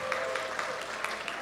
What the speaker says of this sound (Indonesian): Beri tepuk tangan untuk semua ibu-ibu,